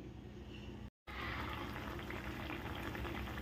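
Prawn curry with potato bubbles and simmers in a pan after half a glass of water is added, a steady close sizzling boil with one brief cut.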